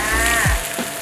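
Fish skin sizzles loudly in a hot pan, with a steady crackling hiss and a brief thump as the fish settles.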